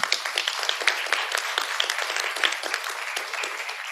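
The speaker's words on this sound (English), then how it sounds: "I'd like you to be recognized and give you a round of applause for all your hard work" An audience at a conference session applauds the planning committee: moderate, fairly distant clapping from a room of people, steady throughout with a few crisper claps on top.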